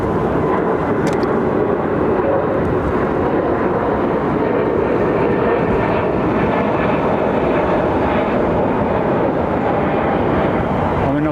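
Engines of an Airbus A320neo airliner roar steadily at London Heathrow Airport, a loud, continuous broadband rumble that holds without letup.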